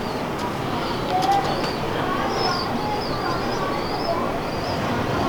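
Soft, repeated cooing of pigeons mixed with a few higher bird chirps over a constant background hum.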